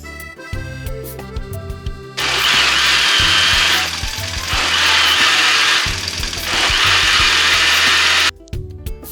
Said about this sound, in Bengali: আমগুলো এখন আমি দিয়ে দিব ব্লেন্ডারে। সাথে ব্লেন্ডারে চিনিও দিয়ে দিব